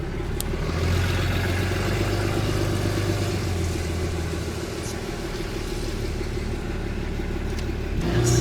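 A truck engine idles steadily at the Peace Arch border crossing, a continuous low rumble that stays close and constant throughout, with a slight swell near the end.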